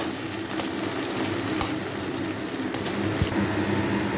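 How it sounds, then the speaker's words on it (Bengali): Chopped onions fry in a pan until reddish brown, giving a steady, dense sizzle broken by a few sharp clicks from stirring. "কুচিয়ে নেওয়া পেঁয়াজগুলোকে ভালো করে ভেজে নেব লাল লাল হওয়া পর্যন্ত"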